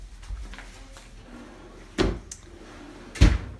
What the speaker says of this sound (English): Drawers are not soft close.